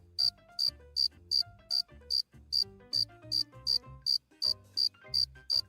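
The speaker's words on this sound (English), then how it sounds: "he chirped the most beautiful sound that she had ever heard." Repeated cricket chirps in a steady rhythm, about a dozen short bright pulses over soft background music.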